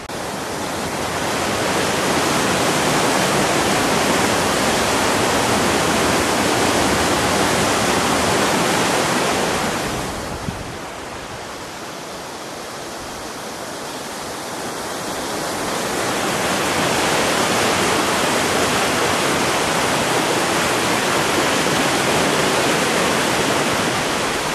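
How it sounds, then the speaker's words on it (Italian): Mountain streams swollen with water rush in a steady, loud broadband roar near Coltrondo above Padola di Comelico Superiore, dipping briefly softer mid-way before swelling back to full strength. "questi ruscelli sono particolarmente carichi di acqua"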